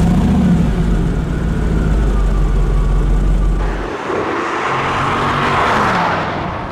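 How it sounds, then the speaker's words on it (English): A Mercedes McLaren SLR roadster with past fire damage, 617 horsepower, its side-exit exhaust roaring loud and close as it accelerates, a heavy sustained engine drone that shifts in tone partway through before easing off. "oh man, that exhaust note, since it comes out the side"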